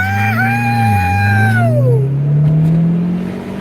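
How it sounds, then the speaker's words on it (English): A car engine revs loudly nearby, its pitch dipping and then climbing as it accelerates away. "Listen to that engine."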